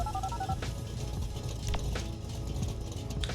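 Quiet phone dialing tones and soft electronic blips in GTA 5, a short run of beeps over a steady background hum.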